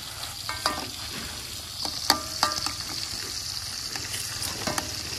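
Food frying in hot oil in a home kitchen, a steady sizzle under occasional sharp scrapes and clinks of a spatula stirring the pan, close up and continuous.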